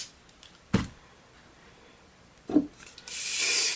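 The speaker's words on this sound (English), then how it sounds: "Spray." Hairspray bursts onto hair from a can: a short puff, another brief spray, then a longer continuous hiss close to the mic.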